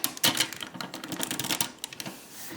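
Plastic parts of a Machine Wars Prime transforming robot toy click and rattle in quick, irregular taps as its arms are folded out by hand, heard close up and alone.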